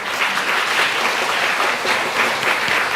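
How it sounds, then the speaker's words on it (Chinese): Steady, sustained clapping from a church congregation at a Sunday service, dense and continuous with slight swells in intensity, no voices rising above it. "我们拍手来欢迎"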